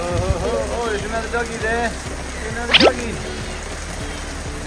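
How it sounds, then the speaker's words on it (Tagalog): Rain falls steadily on surfaces on land in the Philippines, a soft continuous patter under a voice and other brief sounds. "Oh, it's raining."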